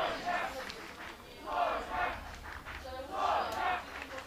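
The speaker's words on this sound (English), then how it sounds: "Sofia's teammates cheering for her" Teammates cheer for a compound archer during a youth European Cup individual final, with several rhythmic bursts of group shouting from a moderate distance, fairly faint over quiet outdoor ambience.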